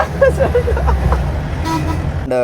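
A new car's horn, loud and deep like a lorry's, sounds in two short blasts over road and engine noise, with people talking nearby.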